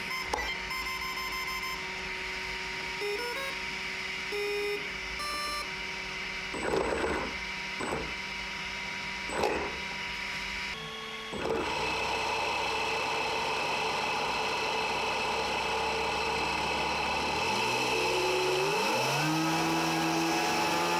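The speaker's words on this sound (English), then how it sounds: "now we are ready to spin up this compressor and see does it actually work" A 3D printed axial compressor spins up, a steady mechanical whir with rising tonal whine that climbs in pitch near the end, loud and continuous with brief bursts of noise early on.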